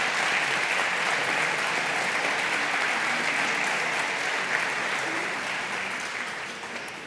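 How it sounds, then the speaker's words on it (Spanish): An audience applauds at the close of a dialogue event on the Church's role in culture and education, dense, even clapping filling the room for several seconds and slowly easing at the end. "le vamos a despedir con este aplauso"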